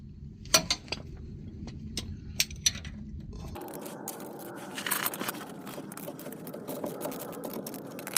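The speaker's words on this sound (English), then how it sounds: "And taking the bolts off of the rear shock, these are both 17 millimeter." Bolts of 17 mm being removed from the rear shock of a Toyota Tacoma pickup during a leaf-spring install, with sharp ratchet clicks and metallic scrapes up close, followed by a steadier clicking, rattling stretch of wrenching.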